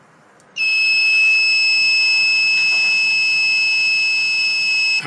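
A short killer used in an iPhone repair gives off a loud, steady electronic beep that starts abruptly and holds one shrill tone for several seconds.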